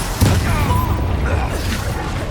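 A Bombarda spell blasts in Hogwarts Legacy with a heavy, booming explosion. A sharp hit opens into a rolling, low roar that stays loud for about two seconds.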